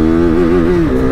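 A KTM RC 390 motorcycle revs hard in first gear, a loud, close, steady engine drone with a rising, wavering pitch that dips briefly near the end of a short burst, with no talking.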